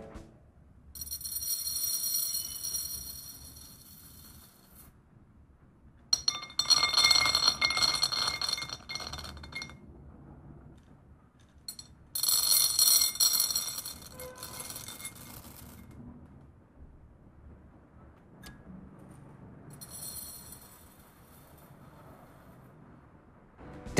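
Rice, groundnuts, gram and sugar are poured or shaken in turn in a container, making four separate bursts of bright rattling and clinking of varying grain, each a few seconds long with quiet gaps between.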